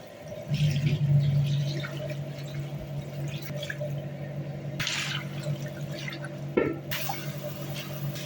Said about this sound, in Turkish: Şimdi bu suyu ıspanakların üzerine ekleyecek.